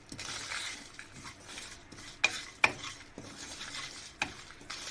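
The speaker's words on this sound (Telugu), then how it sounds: "ఎండుమిరపకాయలు 4 తీసుకోండి. ఇప్పుడు వీటిని ఫ్రై చేయండి." Dried red chillies fry in a pan with a steady soft sizzle, broken by a few sharp clinks and scrapes of a spoon stirring against the metal.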